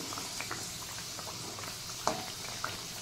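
Spinach and pea kachori frying in oil on low heat, giving a steady soft bubbling sizzle with faint crackles and a couple of sharper pops.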